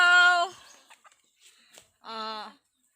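A chicken on a farm gives a loud, drawn-out harmonic squawk, then a few faint clucks, then a second shorter call near the end.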